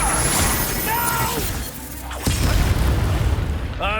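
A Descendo spell strikes in the video game Hogwarts Legacy, a sudden loud crashing, shattering boom followed by rumbling debris, after a brief voice.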